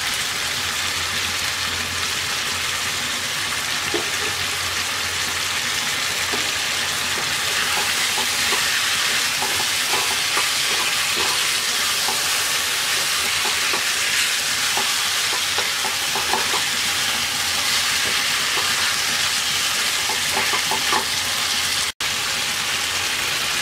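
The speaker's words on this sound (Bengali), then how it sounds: "এবার ঢাকনা দিয়ে মাংসটাকে 7-8 মিনিট কষিয়ে নেব।" Country chicken seasoned with salt sautés under a lid in a pan, giving a loud, steady, close sizzle and crackle that runs unbroken throughout, with faint stirring scrapes and no voices.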